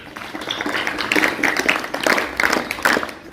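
An audience at a Shivaji Jayanti celebration claps for students, a steady patter of many hands filling the hall for a few seconds, fairly loud and close.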